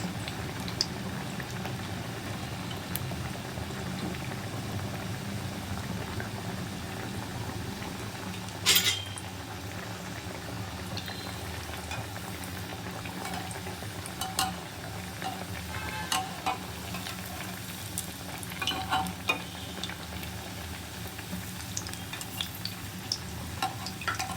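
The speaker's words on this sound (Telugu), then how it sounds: "ఇలా అన్నీ వేసుకున్న తర్వాత మనం ఒకవైపు కాలిన తర్వాత మరోవైపు తిప్పుకుంటూ గోల్డెన్ కలర్ వచ్చేదాకా కాల్చుకోవాలి" Onion vadas bubble and sizzle steadily in hot oil as they are turned until golden, a soft continuous fry with occasional clinks of a utensil and a sharp tap near the middle.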